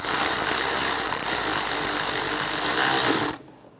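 A ratchet or tool tightens a bracket bolt on a 1996-2002 Toyota 4Runner during fuel injector work, a dense close mechanical whirr that runs steadily, then stops abruptly near the end.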